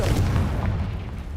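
A Confringo explosion spell in a Harry Potter video game lands as a loud, dense boom with heavy low rumble sustained throughout the short burst, close and forceful.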